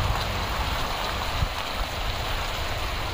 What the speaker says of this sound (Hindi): तेज बारिश है